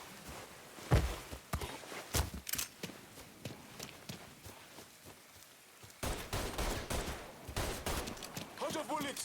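Shots ring out in the Mafia 3 video game, sharp cracks coming in irregular clusters at moderate loudness, with a denser run of firing near the end.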